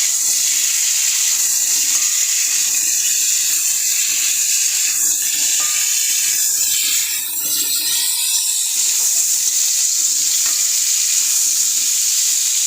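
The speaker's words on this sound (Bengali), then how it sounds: "আলুটা ভাজা হচ্ছে।" Steady, loud sizzling of potatoes frying in hot oil, with occasional stirring scrapes and no talking.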